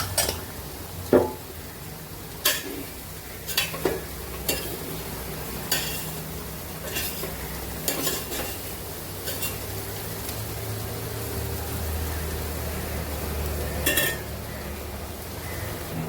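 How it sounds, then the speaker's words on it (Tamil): A spoon turns vegetables dusted with chili powder in a pan, scraping and clinking at scattered intervals over a low steady sizzle, quiet and close, with no speech. "இப்போ நான் அதுக்கு மிளகாய் தூள் போட்டுட்டு புரட்டி விட்டுட்டு மூடி வச்சிடுறேன்"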